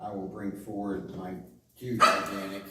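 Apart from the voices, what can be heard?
dogs barking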